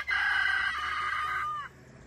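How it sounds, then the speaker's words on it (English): A rooster crows once, a single loud, drawn-out cock-a-doodle-doo lasting about a second and a half that falls away at the end, heard close by with nothing else behind it. "Had to wait there for the rooster."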